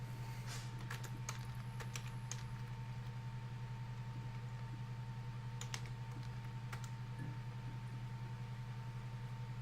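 A computer keyboard is used to type search terms while playing Her Story. Scattered bursts of light key clicks sit over a steady low hum, faint and fairly close.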